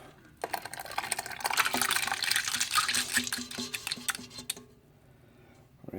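Tamarind liquid is poured from a bowl into a pot, a close trickling splash that swells, runs for a few seconds, then tapers off into quiet.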